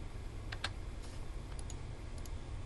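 Keys on a computer keyboard tap while a command is entered in CAD software. Sparse, faint clicks come in small clusters over a low steady hum, with no voices.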